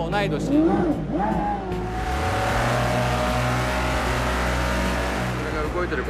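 A 1960s car at the Goodwood Festival of Speed in Gran Turismo 5 revs its engine and then settles into a loud, steady drone, with someone speaking over the start.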